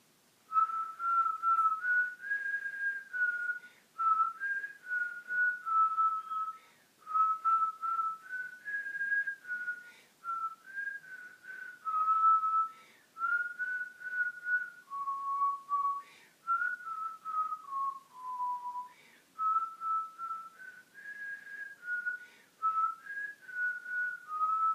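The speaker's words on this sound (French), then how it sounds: "La chanson que j'ai décidé de siffler, c'est Au clair de la lune" A person whistles the French folk song Au clair de la lune alone, a clear, close melody of short phrases separated by brief pauses over about twenty-five seconds.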